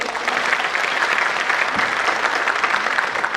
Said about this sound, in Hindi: तो एक बार मैं चाहता हूँ कि सुनील जी के लिए आप सभी तालियां बजाएं।